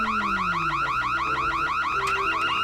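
Burglar alarm going off in The Sims 1, a loud rapid warbling siren repeating steadily throughout over a low game music bed, no talking.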